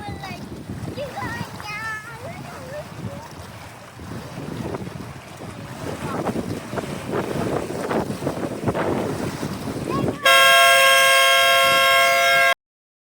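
A homemade high-water flood warning siren, set off by a wave during a water test, blares loud and steady near the end, cutting in sharply after a stretch of wind buffeting and splashing water.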